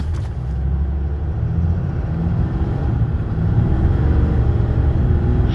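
A 2024 RAM 3500 Cummins diesel pickup with a 6-speed Aisin transmission and 3.73 gears accelerating, heard as a loud steady low engine drone that builds slightly toward the end, with no talking.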